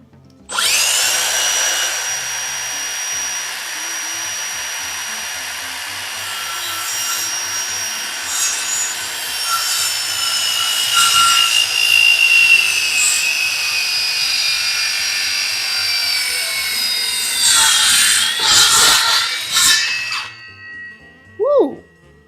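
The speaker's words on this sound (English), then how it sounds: "When we're using the miter saw." A miter saw cuts lumber in a woodshop. The motor gives a long, loud, sustained whine through the cut, then winds down with a few clunks at the end.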